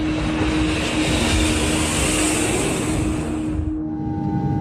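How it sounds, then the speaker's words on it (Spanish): Copa Airlines jet engines roaring steadily at takeoff, a loud, continuous broadband rush with a sustained tonal hum that drops away near the end. "El vuelo 201 de Copa Airlines despegó hacia Cali"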